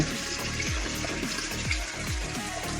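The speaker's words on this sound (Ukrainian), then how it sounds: "Набирається вода." Water pours steadily into a soft collapsible 8-liter AXXIS bucket, a continuous splashing rush with a few soft thumps and knocks as the vessel shifts.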